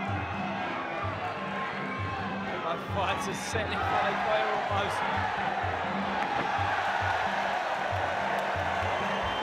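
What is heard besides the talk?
crowd cheering at Muay Thai fight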